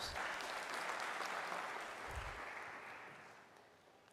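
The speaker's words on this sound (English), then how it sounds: "We can clap for Moses as he comes." Audience applause at a University of Nairobi student recognition ceremony as a prize winner walks to the podium, a steady wash of clapping that holds level and then slowly fades, fairly quiet and distant.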